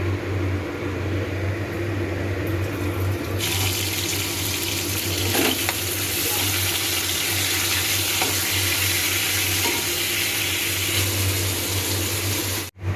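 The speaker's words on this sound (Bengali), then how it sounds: "দেখুন মাছগুলো আমার ভাজা হয়ে গেছে, কত সুন্দর ভাজা হয়েছে মাছগুলো" Ray fish fries in hot mustard oil in a wok, a loud continuous sizzle and crackle holding steady throughout and cutting off at the very end, with no voices.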